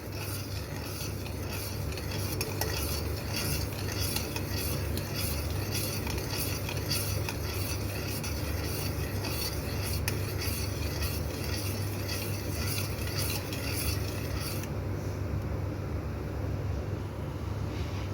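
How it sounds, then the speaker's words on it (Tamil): Crushed ingredients for an immunity booster drink being stirred and mixed in a pot, giving a continuous rasping, scraping stir under a steady low hum, with no talking. "இது எல்லாத்தையும் நல்லா மிக்ஸ் பண்ணிக்கலாம்"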